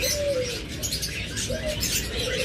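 Pet birds such as lovebirds, budgerigars, cockatiels and finches chirp and coo continuously, with bright high twittering throughout and a few clearer call notes standing out, fairly close and loud.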